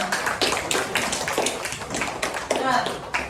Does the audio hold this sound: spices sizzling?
no